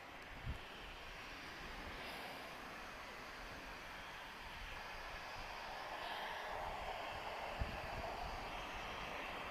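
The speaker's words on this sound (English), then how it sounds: "Got an ATR just about to arrive from Valencia, TAP Express." A TAP Express ATR turboprop arriving from Valencia drones at a distance, a steady broad engine roar that slowly swells a little louder toward the end, with no talk over it.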